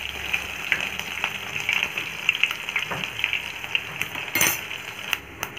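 Crushed garlic fries in hot oil with cumin and mustard seeds, a loud, continuous close sizzle with crackling pops and a few light clinks of a utensil against the pan.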